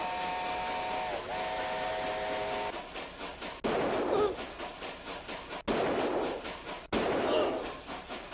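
A train whistle sounds in the Mad Dog 2 video game, followed by a steady rumbling run of rail cars interrupted by sharp cuts, loud and close.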